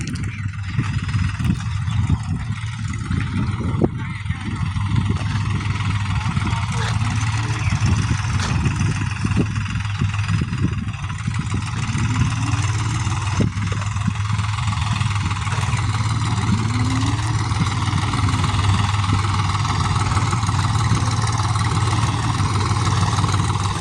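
A farm tractor runs steadily at idle through the whole stretch, a low continuous diesel drone with no speech over it.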